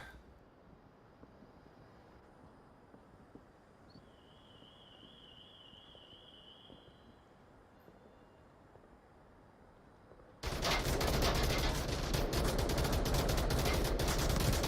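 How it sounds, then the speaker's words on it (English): Suppressive gunfire in the VR shooter Onward: after about ten seconds of quiet background ambience, a sudden loud, dense stream of rapid shots erupts and keeps hammering until the end. "Imperial getting aggressive with the suppressive fire"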